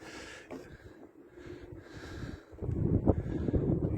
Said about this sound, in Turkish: sevgili dostlar çok fazla rüzgar var.